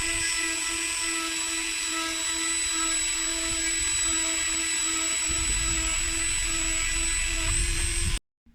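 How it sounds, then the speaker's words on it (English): A Dremel rotary tool carving a skateboard pivot cup whines at a high, steady pitch, loud and close, with the grinding roughening partway through before it cuts off abruptly near the end. "so Dremel time."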